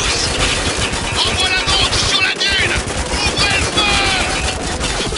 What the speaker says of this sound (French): Et je peux tirer à l'aveugle, hein, bien sûr, hein, comme ça, pour me couvrir.